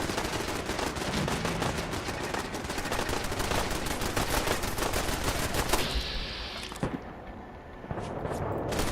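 Turrets in Fallout 4 fire in rapid automatic bursts, a loud sustained rattle of gunfire close by that thins out near the end with a few isolated louder shots.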